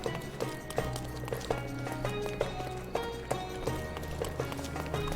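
Repeated clip-clop of horse hooves in the Sherlock Holmes Chapter One video game, a steady trotting rhythm of distinct clops over a low street-ambience bed, moderately loud and without talk.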